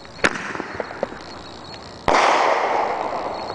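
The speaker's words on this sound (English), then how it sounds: "We have 2 more mortars." Firework mortar shells in Memphis: a sharp launch thump and faint crackles, then a loud nearby burst followed by a sustained crackling, sizzling shower that fades slowly.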